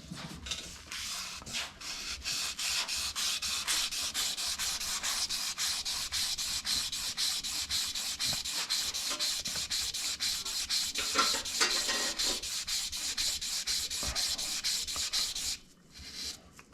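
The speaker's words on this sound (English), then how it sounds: "I've got a new piece of sandpaper" Fine-grit sandpaper rubs by hand over journals on a 1966 C2 Corvette part, a continuous close scratchy swishing in quick even strokes that stops briefly near the end.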